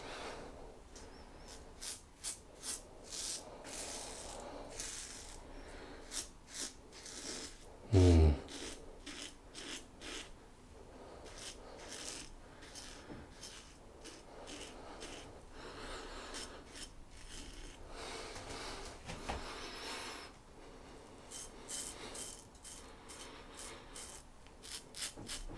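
A stainless steel safety razor scrapes across stubble in a series of quiet, rhythmic rasping strokes, close and faint, with no talk.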